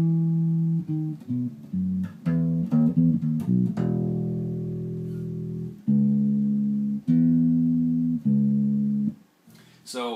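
Bass guitar intro riff from a song, played alone: a few quick, choppy low notes, then longer held deep tones in a repeating pattern, loud and upfront, stopping just before the end.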